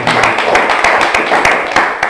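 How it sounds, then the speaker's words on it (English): Scattered, sharp hand claps from a small church group form a brief, uneven round of applause, heard close and mixed with talk. "You can give me a round of applause."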